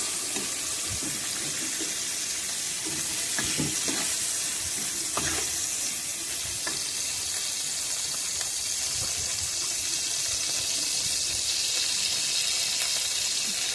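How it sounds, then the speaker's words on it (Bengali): Ginger paste and spices frying in a pan for aloo paneer biryani, a steady close sizzle with occasional scrapes of stirring, moderately loud with no voices. "একটু নাড়তে থাকলাম নাড়া হয়ে গেল আদা বাটা দিলাম"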